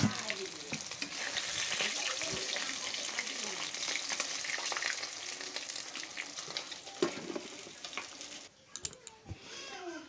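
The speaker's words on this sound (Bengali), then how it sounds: "এইভাবে সব মাছগুলো আমি লাল লাল করে ভেজে নেব।" Fish sizzling and crackling steadily as it fries in a pan, a dense close hiss with occasional clinks and scrapes, easing off near the end.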